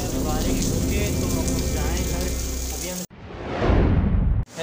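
Heavy rain pours in Karachi, a dense loud hiss of rain on surfaces that cuts off abruptly, followed by a short burst of close rushing noise.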